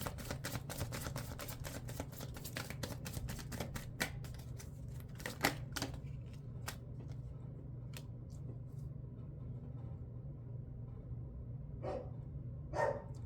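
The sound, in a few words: dogs barking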